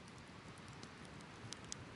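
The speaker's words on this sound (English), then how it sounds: "yellow weather warning for wind, lashings of rain and all that good natural stuff" Steady rain falls on a forest during a night storm, a dense even patter with a few sharper drops landing close by, with no voices present.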